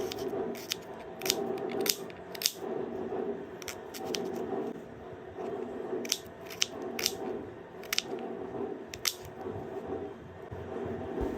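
A medium-sized onion being chopped on a board, sharp crisp knife strikes coming in quick bursts and short pauses, close and clear, with no talking.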